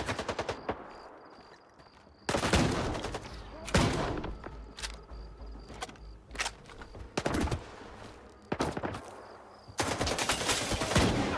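Bursts of automatic gunfire and single heavy shots in the video game STALKER 2 fire in irregular clusters, loud and close, over a faint background tone.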